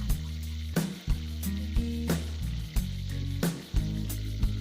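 Small fish fried with garlic in a pan, a steady sizzling with recurring clatter and stirring bursts beneath a low mechanical hum, close and loud throughout.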